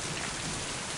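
Steady, dense rainfall in the video game Mind: Path to Thalamus, a continuous even hiss of drops on surfaces with no pauses and no voices.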